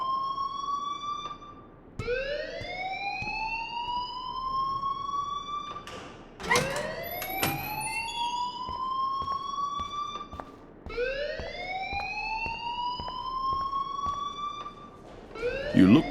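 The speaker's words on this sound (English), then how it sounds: "please turn off that alarm since that's your job" A fire alarm wails in the Life is Strange video game, a loud repeating rising siren-like tone in several long sweeps with brief breaks between them, heard alone.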